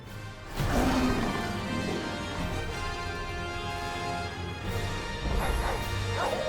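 Dogs bark and growl in Final Fantasy XVI, a dense continuous snarling clamor of a pack over game ambience, with louder yelps near the start and end.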